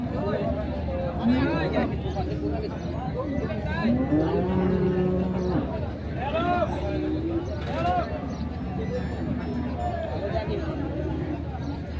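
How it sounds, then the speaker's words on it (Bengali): Cattle, including large Indian bullocks and bulls, moo repeatedly at a busy rural livestock market in Bangladesh, several drawn-out lowing calls near and far over a steady hubbub of people talking. "আমরা দেখছি সাহেব আলী ভাইকেও দেখছি, উনি গরুগুলো দেখছেন।"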